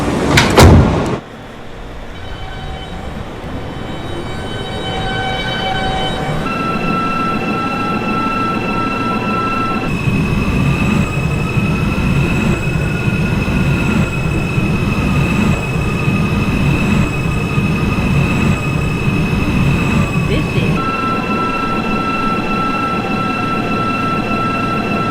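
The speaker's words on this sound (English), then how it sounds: "This is a World Trade Center bound E-train." New York subway E train bound for World Trade Center, heard from inside the car: doors slide shut with a brief thump, then a steady loud rumble of the moving train, with a rising motor whine and squealing wheels.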